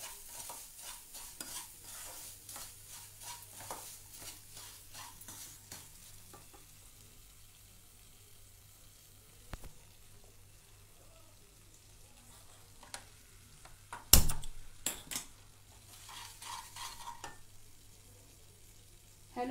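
Semolina roasting and being stirred in ghee in a pan on a low flame gives soft, steady scraping and faint sizzle, with one louder clatter midway, over a quiet background hum.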